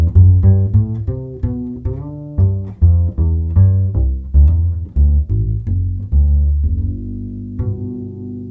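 A double bass, heard through both its pickup and a microphone, plays a walking line of deep, resonant plucked notes, full and close, steady in rhythm with no voices.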